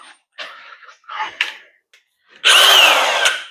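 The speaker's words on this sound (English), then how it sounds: "The angle grinder." A power tool, an angle grinder, in a workshop during the restoration of a Chevrolet S10 truck: several short scattered bursts, then a loud, close, sustained high whine that runs for about a second before easing off.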